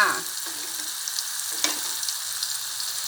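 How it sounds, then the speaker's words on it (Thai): Garlic and ginger stir-fry in a pan for chicken rice with shiitake mushrooms, giving a close, bright sizzle broken by a few spatula scrapes and tosses, with no talking. "ผัดให้หอมแล้วก็ถึงจะใส่ข้าวนะคะ"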